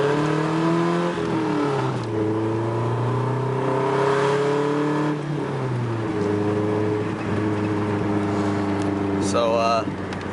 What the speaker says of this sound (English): I'm about to do a pull with the new exhaust